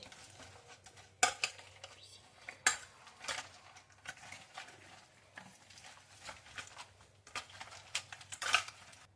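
Oreo chocolate lava cake batter being mixed in a bowl, with irregular clinks and scrapes of a utensil against the side, some sharp knocks standing out from a quiet background.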